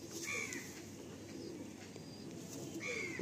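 Pigeons softly cooing, two or three low warbling calls spaced apart over a faint, steady background hum.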